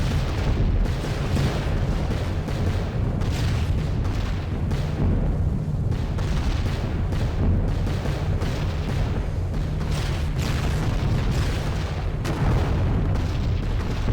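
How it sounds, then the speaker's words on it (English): Continuous heavy low rumble of flak bursts and droning bomber engines around a B-17 Flying Fortress on its bomb run, a dense steady roar with recurring booms throughout and no talk. "The flak's got us."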